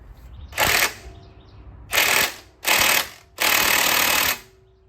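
A ratchet turns a Toyota 100 Series Land Cruiser engine over by hand at the crankshaft after a timing belt job, in four loud close bursts of rapid clicking separated by short pauses.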